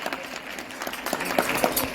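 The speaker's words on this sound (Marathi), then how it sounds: "तुम्ही जो कार्यक्रमाला शिट्ट्या आणि टाळ्यांचा कडकडाट देऊन प्रतिसाद देत आहात" Audience at a Maharashtra Mandal Qatar Chaitra festival programme applauding steadily throughout, a dense crowd clapping at moderate distance with scattered brighter claps; whistles are not distinct.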